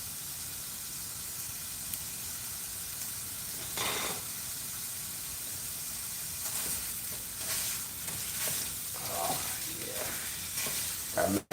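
Homemade sausage frying on medium heat in a home kitchen, a constant close sizzle and hiss with occasional louder bursts of spatter and stirring scrapes, no talking.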